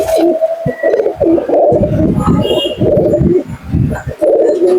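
Domestic pigeons coo in repeated low, throaty phrases after release, close and fairly loud, overlapping one another across the stretch with a few brief chirps.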